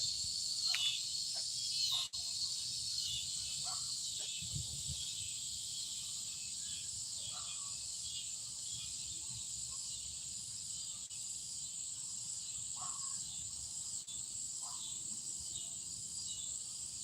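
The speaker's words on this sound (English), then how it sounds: "that frog's chirping" Continuous high, shrill chirping of a frog fills the outdoor air by a creek, steady and moderately distant, with occasional faint rustles and knocks.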